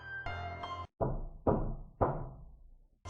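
Several sharp knocks sound on a door, with a brief tonal lead-in before them, then three or four hollow thumps spaced about half a second apart, each ringing briefly in a quiet, eerie setting.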